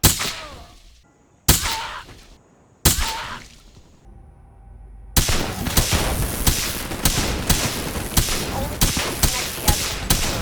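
Suppressed shotgun fired repeatedly in a first-person shooter video game, with a few spaced, heavy muffled blasts and mechanical clanks, then a rapid run of loud shots with debris and impact noise.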